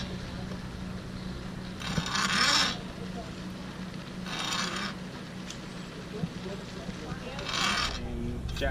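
A hacksaw works through sailboat rigging wire in three separate bursts of rasping strokes, with quieter background noise in between and no speech.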